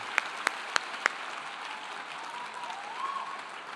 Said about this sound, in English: A round of applause for the master's degree recipients.